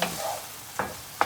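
Chicken seasoned with black pepper being stirred and fried in a pan with bell peppers, a steady sizzle under three distinct scraping stirs of the spatula, close and fairly loud, with no talking.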